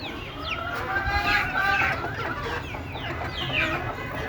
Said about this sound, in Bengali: এগুলো সবগুলো হচ্ছে ডিম পাড়া রানিং মুরগি এই যে দেখতেছেন সবগুলা